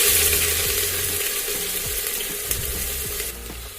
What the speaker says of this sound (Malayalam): പെരുംജീരകം ഒന്ന് പൊട്ടിക്കഴിഞ്ഞ് കഴിയുമ്പോൾ സവാള ചേർത്ത് കൊടുക്കാം.